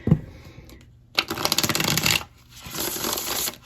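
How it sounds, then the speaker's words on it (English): A new Mermaid Tarot deck is riffled close up in two quick bursts, a rapid flutter of snapping card edges followed by a softer, longer shuffle. "I'll show you how it shuffles. It shuffles beautifully."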